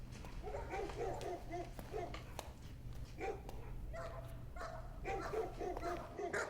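Several dogs barking repeatedly in bursts, yips and whimpers mixed in, over a low steady hum with people talking faintly in the background.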